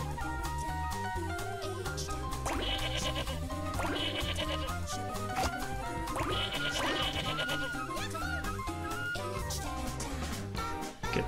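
Sheep bleat in the video game Katamari Damacy, wavering calls rising a couple of times over a steady, busy backdrop of cheerful game music, all fairly quiet.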